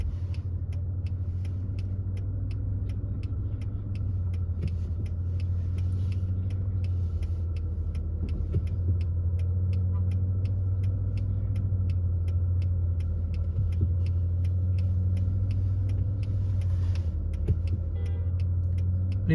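A car idles with a steady low engine hum during a reverse-parking manoeuvre on a G2 driving test, with a faint regular ticking like a turn signal over the drone.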